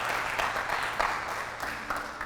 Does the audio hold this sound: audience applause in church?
yes